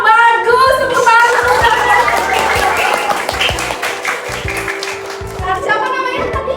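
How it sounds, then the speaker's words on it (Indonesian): Brief classroom applause from students during a microteaching lesson, a dense patter of clapping hands mixed with a teacher's voice speaking over it and near the start and end. "bagus, tepuk tangan"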